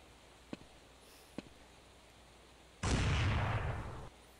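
A gunshot in the blocky shooter video game Block Force: two faint sharp clicks, then a loud blast that holds as a noisy burst for just over a second before cutting off.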